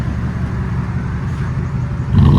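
A Toyota Tundra with a 5.7L V8 and aftermarket exhaust rumbles steadily and close, rising into a louder, deeper rev near the end.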